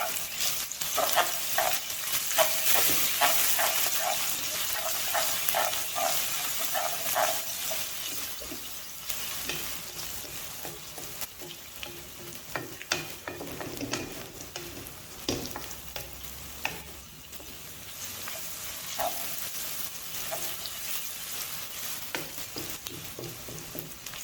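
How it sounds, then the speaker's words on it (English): Garlic and ginger sautéing in a pan for a mixed lentil dal, a soft continuous sizzle with intermittent spoon stirring and scraping, quiet and close, with no talking. "We're going to add 1 tablespoon garlic, 1 tablespoon ginger, now saute it a little bit."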